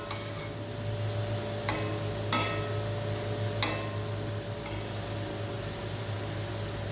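Egg podimas sautéing in a pan gives a steady low sizzle, broken by a few sharp scrapes and taps of a spatula as it is stirred.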